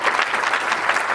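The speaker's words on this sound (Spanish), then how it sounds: "Den un aplauso al Señor." A church congregation claps together in a brief, dense burst of steady applause at moderate loudness, with no other sound standing out.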